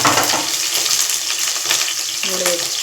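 Onion frying in hot oil for Karnataka bassaru, a steady dense sizzle close up and loud throughout, with a few brief stirring scrapes near the end and no talk.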